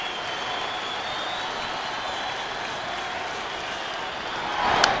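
A large crowd at Dodger Stadium applauds steadily during a Cardinals–Dodgers baseball game, a broad sustained wash of clapping and cheering with a brief sharp swell near the end.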